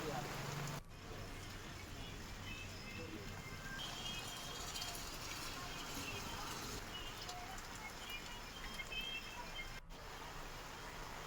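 Heavy monsoon rain pours steadily across a district in Rajasthan, a dense, continuous broadband hiss with no breaks, loud and close throughout.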